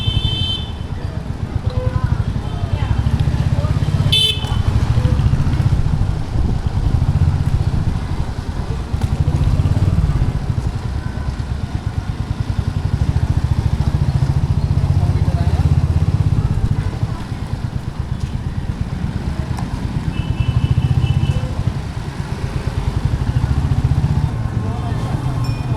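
Road traffic in Rishikesh, with motorcycles and cars, makes a continuous low engine rumble that pulses as vehicles pass nearby. Brief higher tones, such as horns, sound at a couple of moments.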